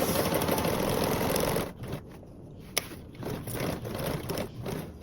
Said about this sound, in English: We're going to start to sew our lining with that 1/4, but then we're going to increase slowly until we get to that 3/8.